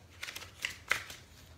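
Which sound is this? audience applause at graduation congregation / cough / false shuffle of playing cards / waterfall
false shuffle of playing cards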